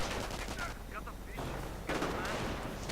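Gunfire and artillery in a strategy video game: continuous bursts of shooting with heavier booming blasts, dense and loud, with a brief lull midway.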